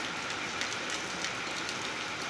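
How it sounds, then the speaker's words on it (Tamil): Steady rain pours outside a home kitchen during a rainy day, a dense, even hiss of falling drops with no break, fairly close and alone with no talk. "மழை பெய்கிற சத்தம் கேட்குதுங்களா?"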